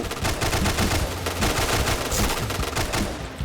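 An RPD heavy machine gun fires in Point Blank, a dense, loud, continuous rattling burst that runs the whole time with almost no pause before a brief tail-off at the end.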